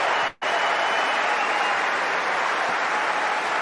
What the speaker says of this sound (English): so many in the crowd a standing ovation for the effort from both players